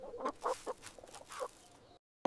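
A cartoon hen clucks in short bursts in a Kazakh children's animated fairy tale, a few quick clucks spaced across two seconds, close and fairly quiet, ending in a brief gap and a sudden louder burst.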